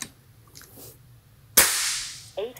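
A single sharp, loud crack from an FX Wildcat MKIII air rifle shot during high-power tuning, trailing into a brief hiss of decay, with a faint click and a short voice just after.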